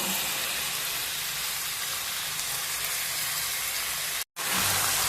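Frozen chicken pieces fry in oil over a high flame, giving a steady, soft sizzling hiss that cuts out briefly near the end before resuming.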